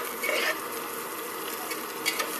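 Food sautés in a hot pan, a close and steady frying sizzle with stirring scrapes and small bursts throughout.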